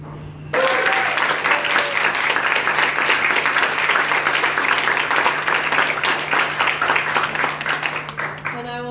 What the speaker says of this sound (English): Certainly pass that applause back to her.